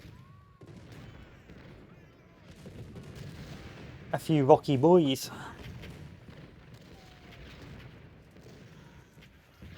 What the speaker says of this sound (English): Still, that's a naughty cannon barrage.